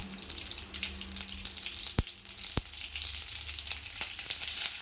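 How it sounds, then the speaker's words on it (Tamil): Mustard seeds pop and splutter in hot oil while making a raw mango thokku, with a steady crackling hiss and a couple of sharp louder pops partway through. "கடுகு நல்லா பொரிஞ்சு வருது"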